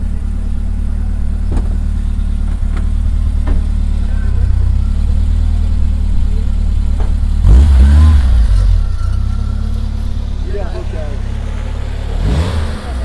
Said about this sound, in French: Allez, arrive une 205 GTI